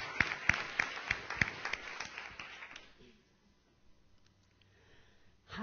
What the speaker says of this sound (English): Round of applause for Heather